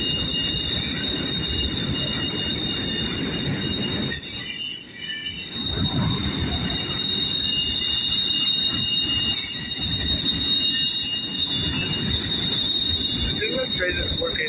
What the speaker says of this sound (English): The train is working hard, very, very hard.